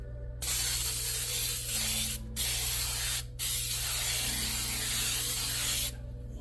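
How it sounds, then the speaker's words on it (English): Baker's Joy baking spray sprayed into a baking dish, a close, loud, steady aerosol hiss in three long bursts with short breaks between them, over a low background hum. "We're gonna lightly spray it with baker's joy."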